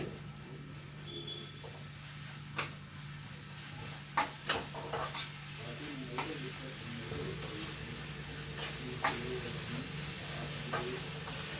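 Carrot frying in a pan with curry leaves and coriander, a steady low sizzle with scattered clicks and scrapes of stirring, a few sharper knocks of a utensil against the pan.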